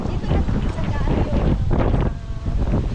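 Loud wind buffets the microphone continuously on an open beach on Boracay, a heavy low rumble with faint voices talking underneath.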